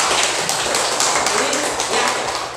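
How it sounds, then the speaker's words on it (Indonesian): Children in a classroom clap their hands loudly and fast in a dense burst that fills the room. "Oke, tepuk tangan untuk anak-anak sendiri."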